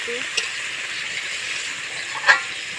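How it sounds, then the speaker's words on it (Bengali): Chicken frying in a pan at a picnic, a steady moderate sizzle with a couple of short stirring scrapes, under quiet background. "আস্তে আস্তে ভাজতে থাকবো আস্তে আস্তে চিকেনটা নাড়তে থাকবো"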